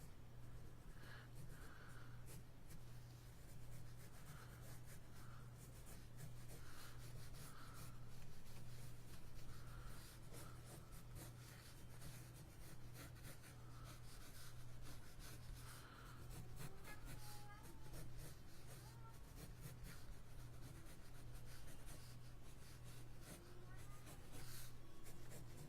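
A pencil sweeps light, gestural lines across paper in a semi-constructive figure drawing, giving a faint, soft scratching over a steady low hum, with a voice talking throughout.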